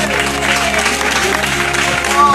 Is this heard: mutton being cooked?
no